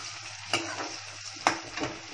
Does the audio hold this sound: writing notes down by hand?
no